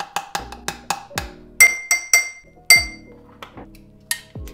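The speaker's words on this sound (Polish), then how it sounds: "jedną taką mocno czubatą przesypujemy do naszej szklanki" A heaped spoonful of matcha powder is tipped from a long spoon into a glass, with a quick series of bright, sharp clinks as metal taps the glass, close and clear, with no talking.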